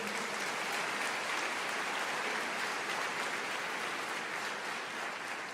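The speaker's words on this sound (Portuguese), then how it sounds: "você pode aplaudir o Senhor?" A church congregation applauds during a sermon, a dense, even wash of clapping that holds steady throughout at a moderate distance.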